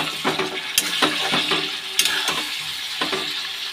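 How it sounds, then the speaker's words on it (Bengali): Spices with turmeric and salt sizzle steadily in a hot pan while being stirred, with close, irregular scrapes and clinks of a spoon against the metal over the crackle. "এই যে মশলাটা দিয়ে দিচ্ছি, হলুদ দিয়ে দেবো, নুন দিয়ে দেবো, একটু ভালো করে কষে নেব মশলাটা।"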